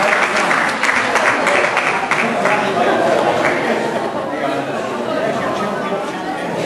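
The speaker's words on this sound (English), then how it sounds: "Big round of applause for Blue!" An audience at a dog show applauds the champion dog, Blue, with sustained clapping throughout, mixed with crowd chatter and voices speaking over it.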